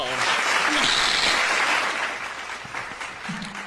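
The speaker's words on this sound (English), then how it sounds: "hand clap" Dense applause-like clapping fills the clip at steady loudness, with a few voices faintly underneath.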